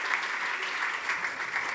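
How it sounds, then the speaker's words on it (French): Audience at a conference talk on artificial intelligence applauding to welcome the speaker Vincent, a short, even wash of steady clapping from a crowd with no break. "d'accueillir sous vos applaudissements Vincent"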